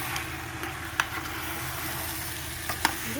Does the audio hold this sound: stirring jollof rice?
yes